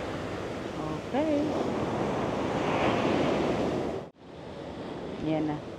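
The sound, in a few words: ocean waves breaking on a Florida beach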